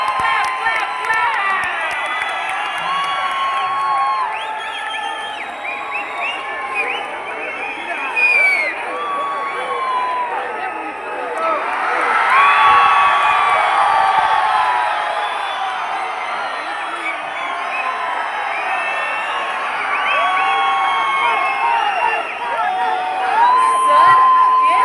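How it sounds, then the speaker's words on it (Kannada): A large outdoor crowd at the Gaganachukki waterfall festival cheers, whoops and shouts continuously and loudly, swelling midway, with many voices mingling throughout. "ಅವ್ರು ಬರೋವರೆಗೂ ನಾವು ಚಪ್ಪಾಳೆ ಹೊಡಿತಾನೆ ಇರೋಣ"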